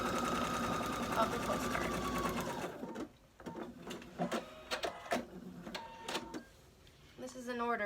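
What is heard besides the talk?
sewing machine zigzag stitching around a fabric postcard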